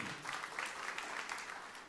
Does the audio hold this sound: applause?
yes